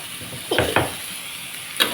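A whole block of tofu is dropped into a hot pan for pad thai, giving a few short sizzling and scraping bursts from stirring over a steady background hiss.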